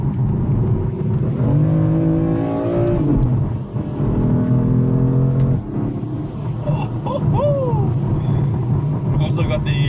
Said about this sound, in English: I'm in an M4, and it's, if you want to hear what it sounds like.